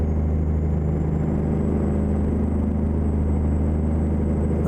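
Steady low diesel rumble from a Caterpillar 3406 truck engine in American Truck Simulator, running continuously and close with a constant hum, no voices.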